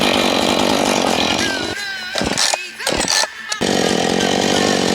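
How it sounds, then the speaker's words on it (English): A Stihl chainsaw cutting through a log, its loud close engine snarling steadily, dropping out briefly to a few bursts and revs midway before returning to full throttle. "This is day one of cutting a log with a Stihl chainsaw."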